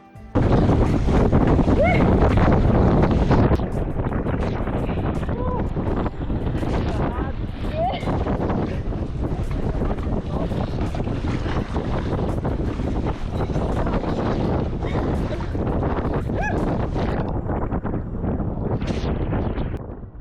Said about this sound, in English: the wind had picked up on the kayak back and our relaxing day had turned a little hectic